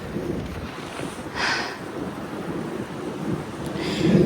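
Strong wind in Japan roaring steadily around an apartment building outdoors: a continuous rough rumble with microphone buffeting that swells twice into louder gusts, no talking.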